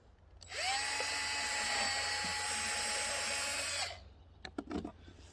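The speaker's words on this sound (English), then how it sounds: "when you drill your hole" A power drill whines steadily for about three seconds while boring a hole through a rubber plunger, loud and close, then stops, followed by a few light clicks and handling knocks.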